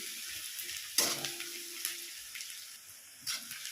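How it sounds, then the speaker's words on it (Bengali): Soft sizzling of onions frying in a pan with a few stirring scrapes and a brief clink; quiet and continuous, no talking. "পেঁয়াজ ভাজা কিন্তু হয়েই এসেছে।"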